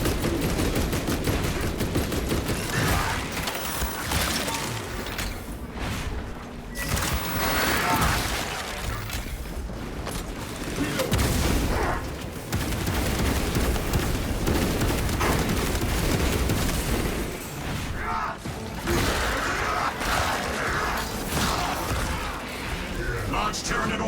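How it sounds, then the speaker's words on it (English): A servo gun strike in the Warhammer 40,000 Space Marine 2 video game: loud, sustained bursts of rapid gunfire and impacts, pausing briefly and resuming, with a voice speaking over the battle. "Servo gun strike in progress."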